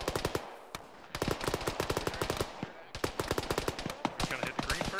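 A PKM heavy machine gun fires in a military shooter game, loud close bursts of rapid shots that pause briefly near the one- and three-second marks before starting again.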